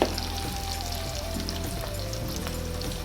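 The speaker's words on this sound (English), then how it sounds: "I'm going to saute the chicken breast right in this oil" Chicken breast sautés in extra virgin olive oil in a one-pot pan, giving a steady, close, crackling sizzle with no talking.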